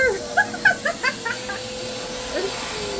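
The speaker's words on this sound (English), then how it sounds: "Oh, BC, escape the vacuum monster." Vacuum cleaner running steadily near a groundhog indoors, a constant whine under intermittent chirpy vocal sounds and brief talk.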